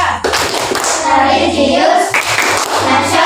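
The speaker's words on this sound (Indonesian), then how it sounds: "Ayo tepuk PPK, ya dipimpin." A group in an Indonesian teacher-training class performs a led rhythmic PPK clap chant. Close, loud patterned claps mix with voices chanting together.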